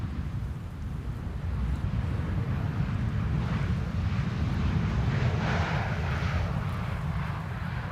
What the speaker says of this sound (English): The BizJet I alluded to earlier is now flying over Amsterdam Central Station and going towards Vondelpark.